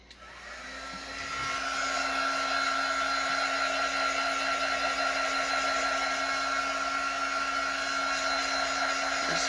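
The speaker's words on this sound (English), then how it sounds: "Let me hit this for a second with my embossing gun." An embossing heat gun drying green paint on a gnome tumbler, a steady close whirring blow with a faint hum that starts after a click and runs without a break to the end.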